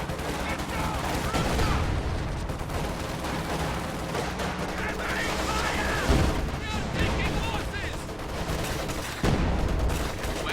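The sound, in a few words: high explosive artillery barrage and gunfire in a video game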